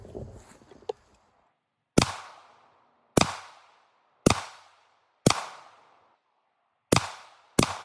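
Six sharp gunshots from a budget AR15 rifle at an outdoor range, spaced roughly a second apart with a brief pause in the middle, each followed by a decaying echo, after some faint handling noise at the start.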